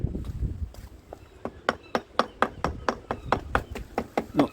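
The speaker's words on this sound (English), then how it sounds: "Just giving it a little gentle tap with my nylon hammer" A steady series of sharp, moderate taps from a nylon hammer striking a 2005 KTM SX 85 engine cylinder, about three per second, close by with some low rumbling underneath.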